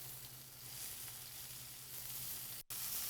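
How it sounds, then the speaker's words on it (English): Scallops searing in a hot pan, a steady close sizzle and hiss of frying with a low hum beneath it, briefly cut off near the end, and no one talking. "You see that great sear, beautiful golden brown color."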